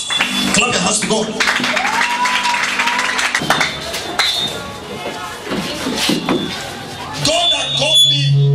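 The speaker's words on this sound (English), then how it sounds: "Clap your hands to God." Church congregation claps hands together during a lively service, a dense, loud burst of clapping mixed with shouting voices and music.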